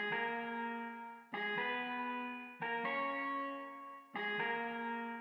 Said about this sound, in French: c'est une petite guitare électrique